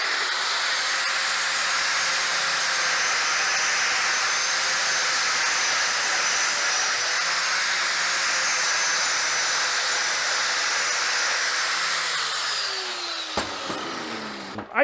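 A worn flap wheel on a grinder sharpens a walk-behind Lawnboy lawn mower blade, giving a loud, steady, close hissing grind that runs unbroken for about thirteen seconds, then stops with a few clanks.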